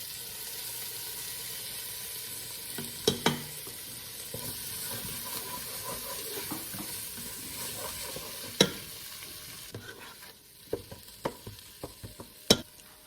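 Chopped tomato and green chilli sautéing in a pan, a low steady sizzle with scattered sharp clinks of a spoon against the pan, growing more frequent toward the end, no speech.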